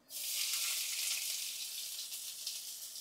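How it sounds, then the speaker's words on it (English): Onion and garlic sizzle in hot olive oil in a heated pan, a steady, bright frying hiss that starts suddenly and carries on throughout with no talking. "I'm going to add a little bit of olive oil. Then I'm going to add my onion"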